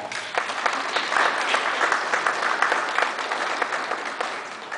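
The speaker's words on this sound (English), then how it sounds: "give yourselves a round of applause" An audience at a father-and-son conference in Newsome Park applauds, sustained moderately loud clapping with some voices mixed in.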